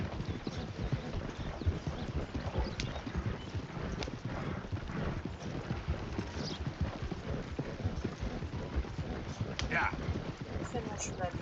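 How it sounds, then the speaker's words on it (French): Horse hooves clip-clop steadily in Red Dead Redemption 2, a continuous rhythmic trot with wagon rumble and an occasional whinny beneath someone talking. "c'est un bon cheval."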